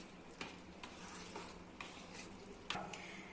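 Chopped vegetables are stirred thoroughly through paddu (appe) batter, a close, soft squelching and scraping with regular spoon knocks against the bowl roughly every half second, with no talking.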